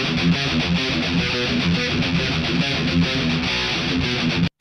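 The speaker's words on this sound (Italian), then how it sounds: "Questo è il suono della GE200 che non ho mai rilasciato" Heavily distorted electric guitar through a GE200 effects unit, dialed in for a signature tone, playing a dense, fast chugging riff that is loud and continuous before stopping abruptly.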